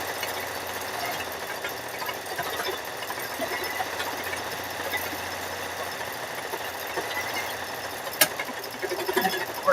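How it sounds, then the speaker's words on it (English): Several embroidery sewing machines running at once make a steady, dense mechanical drone with a fast rattling texture. It is close and continuous, with a sharp tick near the end and no talking. "Nice thing of having multiple sewing machines, you can do two at one time."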